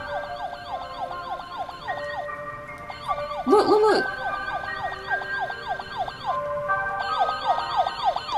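Toy police car in the Roblox game wailing with a looping electronic siren, steady and prominent throughout, briefly interrupted by a short voice.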